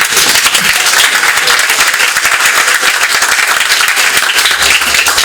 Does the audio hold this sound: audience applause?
yes